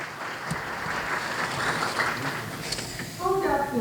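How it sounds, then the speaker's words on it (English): An audience applauds steadily, a broad wash of clapping that swells slightly toward the end, with a voice briefly heard over it. "please give a big round of applause"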